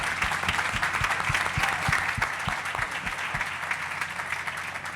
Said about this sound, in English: Just a huge big round of applause for the panelists and our moderator.